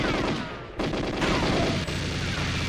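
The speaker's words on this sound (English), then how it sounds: "3 or 4 shots." Gunfire from the GoldenEye video game comes as a rapid, dense burst of repeated shots, loud and continuous, with a brief break partway through.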